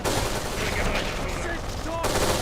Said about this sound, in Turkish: Nasıl bir silah? AK-47.